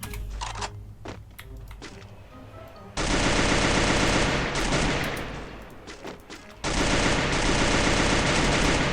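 Sustained automatic gunfire in the battle-royale game Free Fire, dense rapid bursts starting after a brief lull of scattered shots, loud and close, running almost continuously with a short drop before a second heavy volley.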